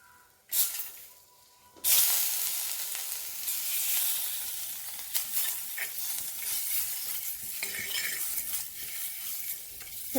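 Eggs sautéing in a pan with salt and Kashmiri chili powder give a steady close sizzle and hiss for about ten seconds, with occasional scrapes and stirring knocks, and no talking over the cooking.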